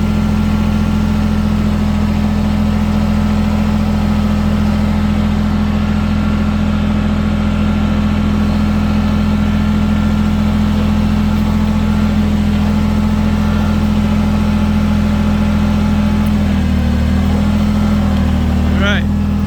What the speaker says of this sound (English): I'm going to come around with the right side of the tractor around the fence this way.